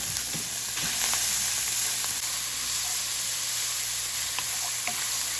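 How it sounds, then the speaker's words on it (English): Turkey bacon fries over a low flame with a little oil, giving a steady soft sizzle throughout with a few faint clicks of utensils against the pan. "Put it on a low flame so it don't burn the turkey bacon."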